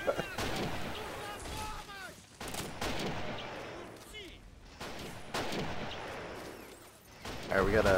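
Grenade blasts and bursts of gunfire in the WWII strategy game Men of War: Assault Squad 2, loud repeated booms and crackling shots across the whole stretch, with a voice audible in places.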